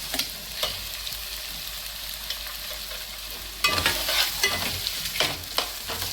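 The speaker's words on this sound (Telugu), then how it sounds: "ఉల్లిపాయలలో చక్కగా వేగింది కదా, ఉల్లిపాయ ముక్కలు వేస్తానండి" Onion pieces fry in hot oil for a potato kurma and get stirred, with a soft sizzle that swells into louder, busier scraping and crackling partway through. No one speaks.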